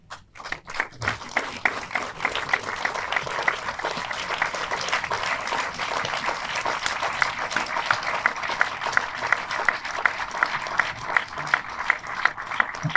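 An audience applauding Joséphine Baker's children at a documentary film screening and debate, dense sustained clapping from a full room that swells quickly and holds steady throughout with no talk.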